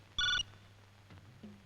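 A telephone gives one short, clear electronic ring burst, followed by quiet room noise and faint movement.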